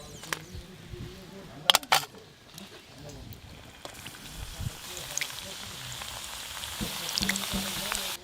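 Crispy khasta snacks sizzle in hot oil in a village kitchen, a steady close hiss with a few sharp clinks over a low rumble. A voice can be heard faintly.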